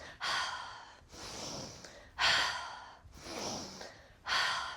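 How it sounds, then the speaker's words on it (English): A person in a yoga shoulder stretch sniffing in sharply through the nose and exhaling through the mouth, with five close, rhythmic breaths in alternating strong and softer pulses. "really sniff in through your nose and exhale through your mouth"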